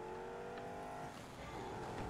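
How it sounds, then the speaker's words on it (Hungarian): A car engine in the video game Rocket League, a sustained revving whine with shifting pitch as the car accelerates and moves, fairly faint, without speech. "Érdekes ennek az autónak a hangja."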